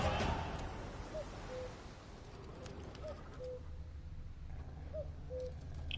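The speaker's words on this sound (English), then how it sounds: "bird that's making that cuckoo noise is driving me insane" In The Witcher 3, a bird's two-note cuckoo call repeats three times at steady intervals. It sounds faint and distant over a constant forest ambience.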